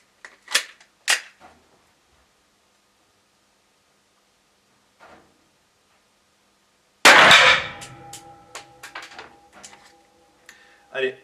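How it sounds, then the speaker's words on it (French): A Glock 17 blank pistol fires one loud, sharp report that rings out and decays with metallic clatter, preceded by brief speech in French and a quiet gap. "Allez, un dernier tir."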